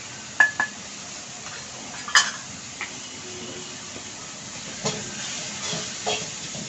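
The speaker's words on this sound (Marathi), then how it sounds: "हे आता मी चांगले मिक्स करून दळून घेते" Tomatoes and onions softening in a pan for sambar, stirred with a utensil that clinks and scrapes against the metal a few times over a soft, continuous sizzle.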